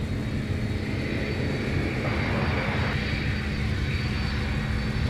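An airliner arriving to land at MSP airport gives a broad, steady engine roar that holds loud and even throughout, with no voices.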